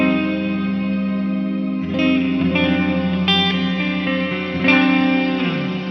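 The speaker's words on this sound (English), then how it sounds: "this is our shimmer reverb" A sustained, shimmering reverberant tone from an Eventide H9 MK2 shimmer reverb swells and blooms with bright upper layers, as new notes enter every second or two and ring out into a lush wash.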